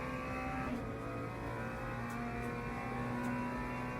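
An inline four-cylinder race car engine in the Le Mans Ultimate racing game drones steadily at sustained revs, with a strong, even harmonic hum and slight pitch shifts, loud and constant throughout with no talk.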